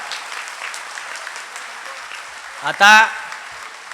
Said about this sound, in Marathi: त्यांना एकदा पुन्हा अशाच टाळ्या वाजवून त्यांचा आभार मानूया.